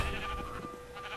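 Sheep bleat in Minecraft, a short wavering call or two at moderate volume over a steady game hum, with no talk.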